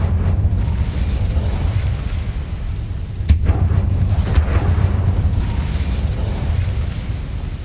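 A fire spell cast in the video game Hogwarts Legacy bursts out as a short whooshing pop over a steady low rumble of background ambience, with a second smaller burst following about a second later.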